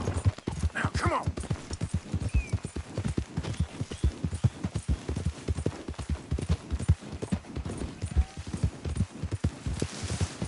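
Horse hooves clip-clop at a steady riding gait in the Red Dead Redemption 2 video game, close and rhythmic throughout, with a brief whinny-like sound early on.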